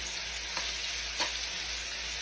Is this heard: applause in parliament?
no